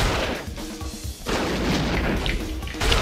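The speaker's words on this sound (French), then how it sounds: "On a enfin une arme pas mal, le M60" An M60 machine gun fires in the video game XIII, sounding as dense, rough bursts of gunfire with booming reports that continue almost without pause through a short stretch.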